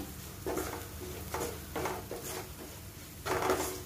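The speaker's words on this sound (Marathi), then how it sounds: "आता तिखट मीठ सगळं छान तेलामध्ये व्यवस्थित परतून घ्यायचं, शिजवून घ्यायचं।" Chili powder and salt sautéing in hot oil in a pan while making soya bhurji, with soft sizzling under a few distinct scraping strokes of a spoon stirring, fairly quiet and close.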